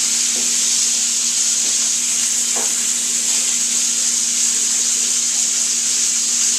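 Steak fries in a pan with melting butter as it is basted, giving a loud, continuous close sizzle broken by a few soft clicks and scrapes from the basting.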